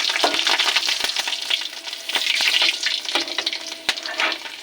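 Slit green chillies and cumin seeds crackle loudly in hot oil in a kadai, a close, busy sputtering sizzle with sharp pops throughout, no voices.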